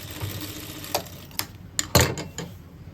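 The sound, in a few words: sewing machine stitching a pant seam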